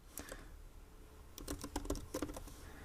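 Typing HTML code on a computer keyboard: a lone pair of keystrokes, a pause, then a quick burst of light, close clicks, quiet throughout and with no speech.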